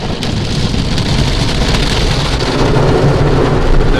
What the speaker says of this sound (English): it sprays out some sort of chemical as it comes over